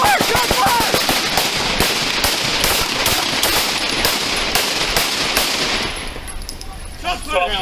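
Rapid, loud gunfire erupts during a police confrontation, a dense burst of shots that continues for several seconds before thinning out, with shouting voices mixed in.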